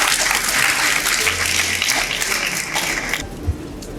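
Audience applause welcoming a representative of the Faculty of Economic and Management Sciences of Bamako at a university event, a loud, dense burst of clapping that fills the room, then thins and fades toward the end.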